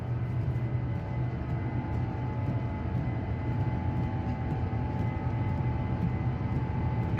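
A Japan Airlines A350 in Microsoft Flight Simulator rolls for takeoff, its jet engines giving a loud, steady broadband roar that holds without pause.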